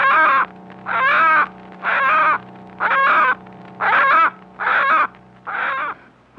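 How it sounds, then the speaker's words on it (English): A hen held in a man's hand gives loud fear squawks, seven harsh, evenly spaced calls in a row, close and clear with no talk. "as when a hen is held in the hand by a man, the bird gives loud, fear squawks."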